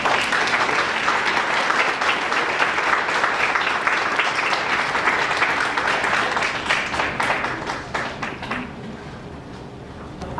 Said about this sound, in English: let's welcome them with real applause